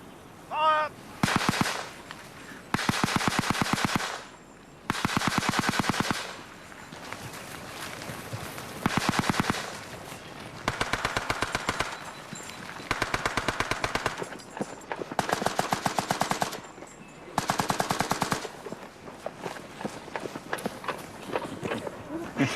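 Rapid bursts of rifle fire from cadets in a WWI battle reenactment repeat in a steady series across the scene, loud and close, with shouted commands between volleys.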